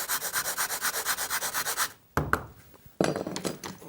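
A fine woodworking rasp files in steady rhythmic back-and-forth strokes, close and loud, followed by a pause and a few scattered scraping strokes.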